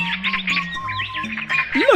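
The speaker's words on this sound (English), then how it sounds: "Look, Mew Mew, there are some birds." Several birds squawk and chirp in quick succession in the Amazon rainforest, bright close calls with rising and falling whistles, alone without talk.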